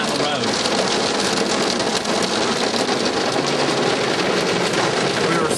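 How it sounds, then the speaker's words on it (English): Hail pelting a car stuck in traffic on an expressway in September, a steady, dense loud clatter on the vehicle filling the whole stretch without letup. "September, and it is hailing."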